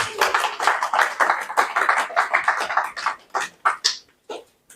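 A church congregation clapping to acclaim God, with dense rhythmic handclaps that thin out into a few scattered claps before falling silent.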